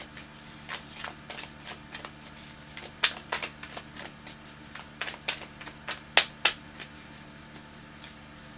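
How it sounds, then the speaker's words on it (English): Moon oracle cards are shuffled by hand close up, a quiet run of soft riffling flicks and sharp card snaps in an uneven rhythm. "Let's pull some moon cards."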